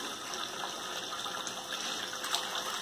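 A small battery-powered water pump runs on a mini sluice and high banker kit, giving a steady, continuous gush of flowing water close by with no breaks or talk.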